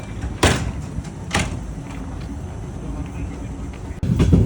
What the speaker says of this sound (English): We're on a local train.